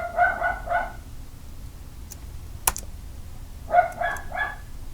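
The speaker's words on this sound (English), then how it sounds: "He was barking at our neighbor," A dog barks in two quick bursts of three yaps each, separated by a pause with a sharp click, fairly close in a quiet room.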